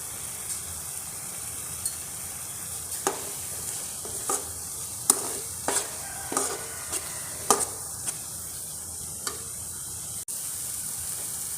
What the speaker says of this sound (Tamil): இந்த பச்சை வாசம் போகிற அளவுக்கு நம்ம வணக்கிக்கலாம்